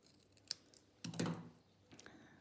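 Scissors trim the top edge off a scrap of card for a step block card, heard as a few quiet close snips with a sharp cut near the start and a longer rustling cut in the middle.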